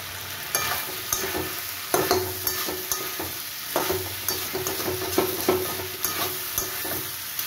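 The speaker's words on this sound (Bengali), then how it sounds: "এটা ভালো গন্ধও ভাজবে কাঁচা লঙ্কা" Whole green chillies fry in a pan of spiced potato and pointed gourd curry with coconut, a continuous soft sizzle broken by rhythmic scraping and tapping of a spoon as the mixture is stirred.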